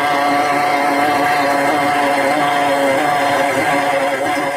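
A FlexArm tapping arm runs in first gear at high torque, cutting threads about 2 inches deep into lubricated metal, giving a steady, loud motor whine that holds unbroken throughout with no talking.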